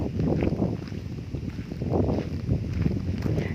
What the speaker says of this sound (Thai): เสียงลมอาจจะแรงนิดนึงนะคะ